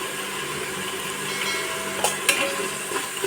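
Ginger-garlic paste, green chili and turmeric frying in oil for a village-style Rayalaseema country chicken curry, giving a steady close sizzle with a few louder stirring scrapes near the end and no talking.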